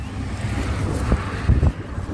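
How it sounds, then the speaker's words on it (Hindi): Wind gusts buffet the microphone on a bridge over the Chambal river, a low rumbling roar with a couple of sharper blasts near the end. "क्या हवा चल रही है"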